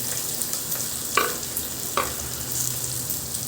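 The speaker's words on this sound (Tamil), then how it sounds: "இது வந்து நல்லா நம்ம ஃப்ரை ஆகணும்ட்டு விட்டுடணும்." Chopped medium onion frying in a pan sizzles steadily, with two brief stirring scrapes partway through, close and moderately loud with no voices.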